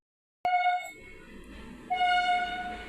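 A train horn blares twice, a short blast then a longer one, over the low rumble of a train moving past at a moderate distance.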